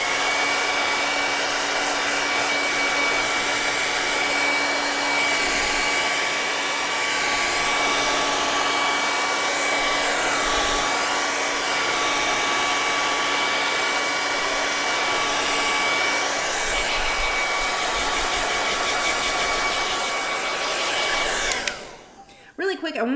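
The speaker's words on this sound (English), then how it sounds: "Okay, plug your ears. One more hair dryer" A hair dryer blowing loud and steady at close range for a long stretch, its whine holding constant before it is switched off and winds down.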